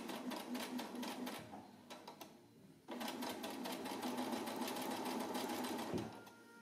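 A sewing machine fitted with a wide hem presser foot runs fast and steadily while hemming fabric, with a rapid even needle clatter that stops briefly and then resumes, close up and with no talk.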